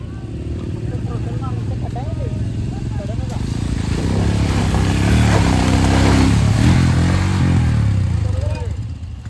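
Motorcycle on a rough off-road trail up to Rangana fort, its engine droning steadily and swelling louder through the middle before easing slightly, with someone talking over it throughout.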